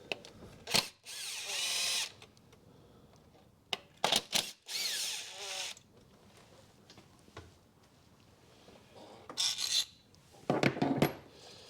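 A Vauxhall Corsa SXi 1.2 petrol engine cover has its bolts undone with a power tool, heard as several short, loud ratcheting whirs in separate bursts with quiet gaps between them.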